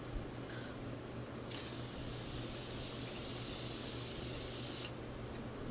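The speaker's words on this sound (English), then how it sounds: "That's the amount I always spray." A makeup setting spray is misted over a finished face in one steady hiss of about three seconds, close and clear against a quiet room.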